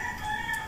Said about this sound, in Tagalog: Tumitilawak ng mga manok.